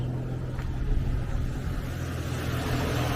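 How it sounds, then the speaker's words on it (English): A faint, steady engine rumble with slight rises in pitch comes from an Infiniti VQ35 engine revving after a misfire fix, heard at a distance with no talk. "She's revving way better."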